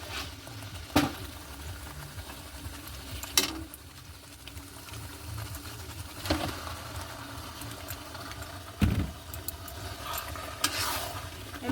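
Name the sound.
chicken added to pot for biryani, sizzling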